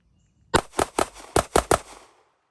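A Canik METE MC9 9mm pistol fires six sharp shots at an outdoor range in a quick, slightly uneven string, loud and close, with a short tail of reverberation after the last round.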